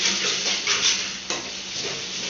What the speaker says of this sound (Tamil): இதில் எண்ணெய் ஊற்றிக்கின்னு வெங்காயம், பச்சை மிளகா, கருவேப்பிலை, கோஸு வதக்கின்னு முட்டை வச்சு ஊற்றிங்க